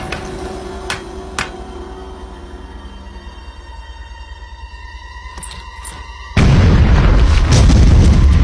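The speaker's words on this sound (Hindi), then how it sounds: "उड़ा दो इस चट्टान को।" A rock being blown up: after a quiet stretch with a few sharp knocks, a sudden loud explosive boom erupts and roars on as a sustained rumble.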